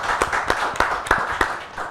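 Applause from a talk show audience, heard as a few scattered claps spread out over a steady murmur rather than a full ovation.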